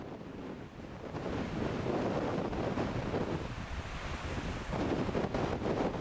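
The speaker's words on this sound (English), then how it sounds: "Winds are howling, waves are crashing into the shore" Hurricane Melissa's winds roaring over the Jamaican coast as waves crash onto the shore, a steady, dense wash of surf and gusts with no voices, swelling louder after the first second.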